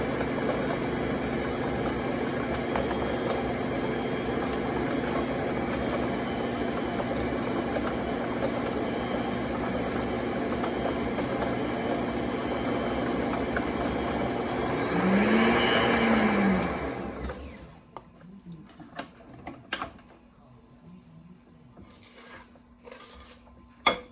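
A 1950s Sunbeam electric mixer whirs steadily while creaming in a rattling, shaking bowl, its motor hum running loud for most of the stretch before switching off, leaving faint clinks and bumps.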